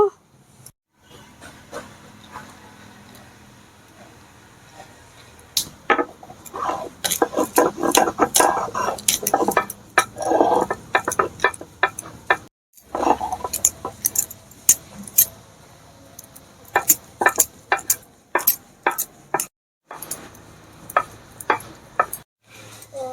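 Soaked rice ground by hand for palm fritter batter, an irregular run of gritty scraping bursts and sharp clicks that comes and goes, with quiet pauses between, up close.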